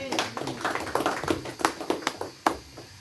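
A church congregation claps in applause, a dense burst of many hands with sharp, uneven slaps that thin out toward the end, close and lively, with no talking over it.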